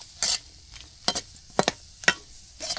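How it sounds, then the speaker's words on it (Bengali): Semai vermicelli frying in a pan over a village wood fire, with a faint steady sizzle and several sharp scraping strokes as it is stirred, close up. "এই যে ভেজে নিচ্ছি খুব সুন্দরভাবে।"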